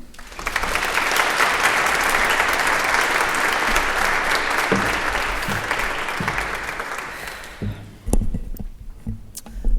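An audience in a chapel applauds warmly as a speaker is welcomed, dense sustained clapping that swells and then fades out, followed by a voice beginning to talk.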